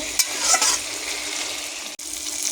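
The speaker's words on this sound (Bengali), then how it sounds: "পেঁয়াজ আলু একসাথে লাল লাল করে ভেজে নেব।" Onions and potatoes fry together in a pan, a steady broad sizzle with a couple of brighter scrapes of stirring near the start and a brief dip near the end.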